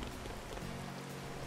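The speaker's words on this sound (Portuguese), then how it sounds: "Caramba, essa chuva" Steady rain pattering on surfaces in A Hat in Time, an even wash of drops throughout with no talk.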